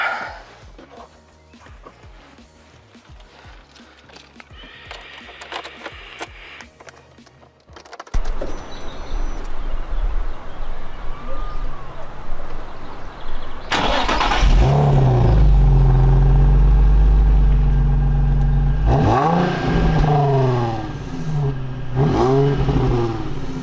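Nissan 350Z heard from just behind the car: quieter ambience first, then the engine fires up with a loud start and settles, followed by several sharp revs near the end, close and prominent.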